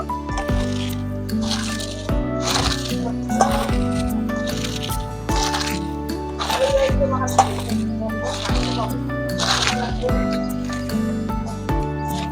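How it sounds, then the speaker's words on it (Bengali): Shredded cabbage is squeezed and rubbed with salt by hand in a bowl, making repeated wet squelching pulses in a steady rhythm, close up, over faint background music. "লবণ দিয়ে বাঁধাকপিটাকে ভালোভাবে আমি মেখে নেব।"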